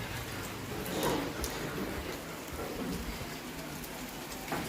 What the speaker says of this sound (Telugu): బయట అయితే చూడండి మంచిగా వర్షం పడుతుంది, ఫుల్గా వర్షం అయితే పడుతుంది.